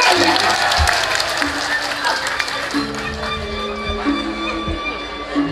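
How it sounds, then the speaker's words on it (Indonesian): An audience claps hands during a Balinese drama gong performance, brisk clapping layered over sustained musical tones and some voices, fairly loud and continuous throughout. "Tepuk tangan berbanyak-banyak."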